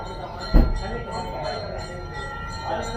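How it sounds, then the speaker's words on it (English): A cowbell clangs once sharply near the start, followed by softer ringing tones and background murmur of speech in an open rooftop restaurant setting in Udaipur. "And clanging bells to add to the ambience."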